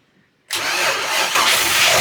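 A big-block marine engine on the starboard side of an old twin-engine yacht cranks and catches, roaring loud and steady after a brief quiet moment, with a slight surge near the end.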